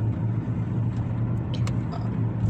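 A car's engine idles with a steady low rumble close by, sounding alone and fairly loud, with a few faint clicks over it.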